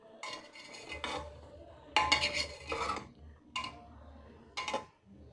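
Sliced mushrooms are stirred into masala in a pan for mushroom biryani, with a utensil scraping and clattering against the metal in several short bursts separated by brief pauses.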